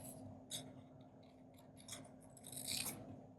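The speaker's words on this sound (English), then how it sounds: "So I'll just cut out this butterfly." Scissors cutting out a paper butterfly, producing a series of quiet, close snips and rustles at an irregular pace.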